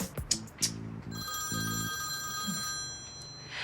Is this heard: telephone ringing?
yes